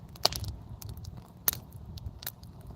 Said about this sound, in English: Can you guys hear the crackling?